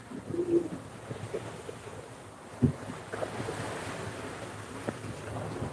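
A sailboat under sail with no motor on the open ocean between Vanuatu and the Solomon Islands, making 4 to 6 knots in light wind: steady wash of waves and wind rush against the mic, with a soft knock partway through.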